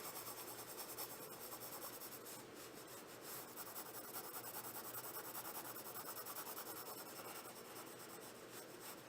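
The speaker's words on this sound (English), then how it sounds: "I'm just going to kind of go in little circles, keeping my pencil nice and light, and I'm going to fill in this area right here." Graphite pencil rubs lightly over paper in small, continuous circles while shading an area, a soft, steady scratchy hiss heard close up with no talking.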